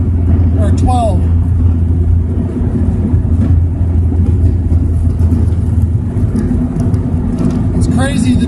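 Turbocharged Ford Probe engine on low boost with a bigger turbo, higher compression and dual valve springs, droning steadily at mid revs under a voice, with brief rising whistles of revving near the start and end.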